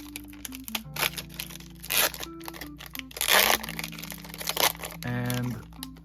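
A trading card booster pack from an Elemental Creatures card game being torn open, with loud crinkling foil bursts and ripping, a few quick tears ending in a longer crackling rip, up close with no talk.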